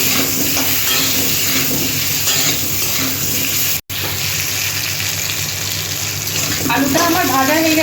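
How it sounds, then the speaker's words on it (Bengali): Potatoes fry with turmeric and salt in a hot pan, a steady dense sizzle running throughout with stirring scrapes, a brief dropout midway, and some clinks near the end. "একটু হলুদ দিচ্ছি আর অল্প একটু লবণ দিয়ে আলুটা আমি ভেজে নিচ্ছি"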